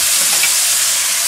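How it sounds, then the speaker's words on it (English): Onions hit a hot frying pan for chicken cacciatore, giving a loud, close, continuous hissing sizzle that holds steady throughout with no talking. "I'm going to add my onions."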